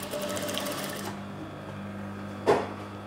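A sewing machine stitches a curved seam with a 1 cm allowance in a quick, rapid run of stitches for about a second, then stops, leaving quiet room tone and a single sharp click near the end.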